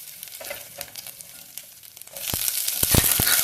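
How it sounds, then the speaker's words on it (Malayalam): Green chillies and ginger sauté in a pan, a quiet sizzle that swells louder in the second half with sharp stirring scrapes and clacks, no speech. "നല്ലോണം മുളകൊക്കെ ഇളക്കുന്നുണ്ട് ഗൈസ്"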